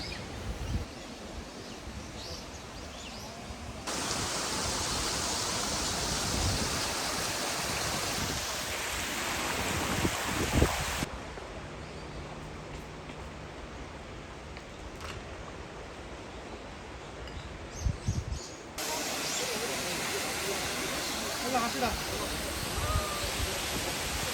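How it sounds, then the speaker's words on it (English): A waterfall on Jeju Island near Seogwipo, South Korea, roars as a continuous broad rush that swells and softens in sections, with brief bumps of handling noise. "check out the waterfall"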